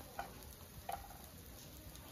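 Onion, ginger, garlic and green chili fry together in a pan with a soft, steady sizzle, faint and close, broken by a couple of light stirring clicks.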